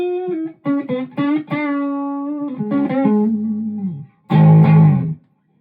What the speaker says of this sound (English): if I want to have a more cleaner sound, I can roll off the volume on my guitar instead